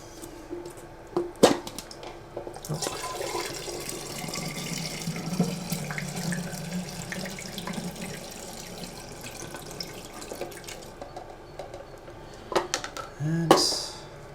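Liquid poured back into a film developing tank, a vinegar stop bath during home darkroom processing of Kentmere Pan 400 film, makes a steady close trickle and splash that runs for several seconds and then ends with a short clatter of handling.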